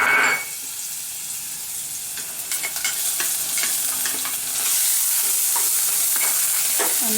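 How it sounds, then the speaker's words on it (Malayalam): Ginger garlic paste frying in a pan, a steady bright sizzle that swells louder partway through, with faint scraping stirs mixed in, close up and without speech. "ജിഞ്ചർ ഗാർലിക് പേസ്റ്റ് ഇടണം."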